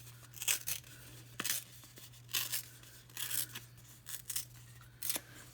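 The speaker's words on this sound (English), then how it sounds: "I'm going to tear this piece" Paper being torn by hand for a handmade card, several short ripping bursts in an irregular rhythm, close and crisp over a low steady hum, with no talking.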